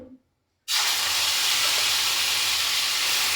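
Tomato and onion paste hits hot oil after a short quiet pause and breaks into a sudden loud, close sizzle, a broad hiss that stays strong and even through the rest.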